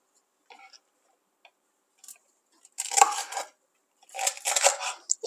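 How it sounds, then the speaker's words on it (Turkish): A knife chops red peppers on a board with light, scattered taps at first, then two denser bursts of rapid rough cuts, close by and with no talking. "Kırmızı biberlerimi de doğruyorum."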